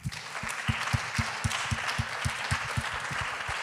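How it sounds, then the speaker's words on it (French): Audience applause at a French business convention panel, a dense wash of many hands clapping with sharper low thumps standing out near the mic, steady and moderately loud throughout with no talk. "Je crois qu'on peut les applaudir."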